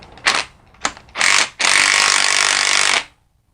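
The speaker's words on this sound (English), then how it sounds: "So let me recompress this spring." A power tool drives a spring compressor on a BMW E46 330i/325i front strut spring, two short bursts, then a longer whir and a sustained loud run of about a second and a half before stopping.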